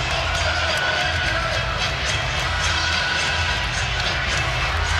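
A packed basketball arena crowd at the Dean Dome before tip-off, a steady, loud roar of cheering and murmur that fills the space without letup.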